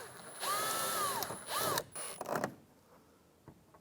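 A power ratchet or driver snugs down bolts on a 1993-1997 Ford Ranger door lock, a couple of short whirring bursts with rising and falling pitch, close up, followed by light clicks and quiet.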